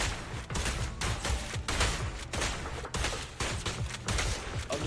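Sustained automatic gunfire in a battle scene from the video game Dragon Age: The Veilguard, with dense bursts of shots that pause briefly between volleys, loud and continuous throughout.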